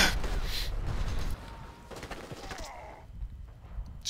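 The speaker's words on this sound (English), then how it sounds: "Somebody shooting us from behind, probably from the hill somewhere." Scattered gunfire from a World War II multiplayer shooter game set in the Mareth Line desert, with several distant shots popping over a busy background before thinning out, fairly faint.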